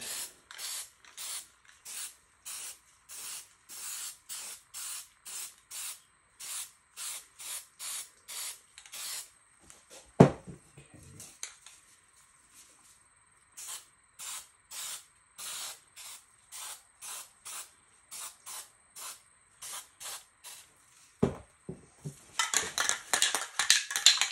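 Neon spray paint cans hiss out in a long run of short, even bursts, close and steady, with a pause and scattered clatter midway and denser, rapid spraying at the end.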